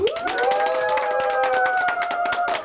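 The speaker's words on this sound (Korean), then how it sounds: "야, 시장님 잘 하셨으면 박수 한번 쳐주십시오" A crowd in Yeosu claps and cheers for the city's mayor at a year-end event, with steady applause and sustained voices rising into drawn-out cheering tones throughout.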